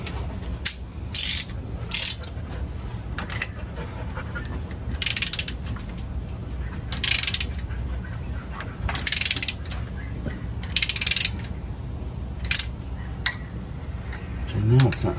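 A ratchet wrench tightening a bolt on the timing chain of a 351 Windsor engine during an Edelbrock timing chain install, giving repeated bursts of close clicking in short runs, with a voice talking over parts of it.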